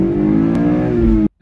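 A loud Toyota MR2 Spyder engine drones steadily close by, then cuts off abruptly into silence near the end.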